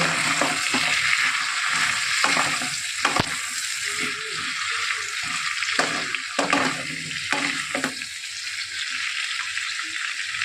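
Bottle gourd frying in a pan while salt and turmeric are stirred in: a constant bright sizzle with repeated close scraping and clacking stir strokes at an uneven rhythm.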